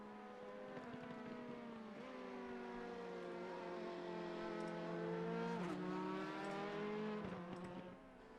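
Sportscar engines in a racing video game drone and rev in a steady rising whine at the Nurburgring, several cars rumbling together and growing slightly louder before easing off at the end.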